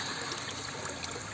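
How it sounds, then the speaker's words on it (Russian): Thick, muddy clay-laden water gushes steadily from a newly pumped Abyssinian sand well, a dense, continuous splashing rush with no pauses, close and fairly loud. "Идет глиняная вода, густая такая."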